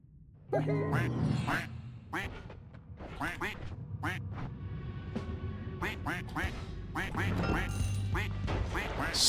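Ducks quack continuously in the video game Noita, dense overlapping nasal calls loud in the foreground over a low game rumble, with a voice talking under them.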